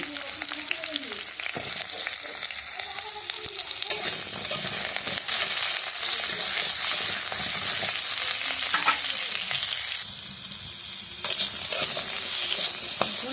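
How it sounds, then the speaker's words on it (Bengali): Cut potatoes and pointed gourd fry together in a pan, a steady loud sizzle with repeated scraping stir strokes throughout, briefly dipping near the end before the hiss returns. "আলু আর পটল একসঙ্গে কাটা আছে, আমি এই দুটোকে একসঙ্গে একটু ভেজে নেব।"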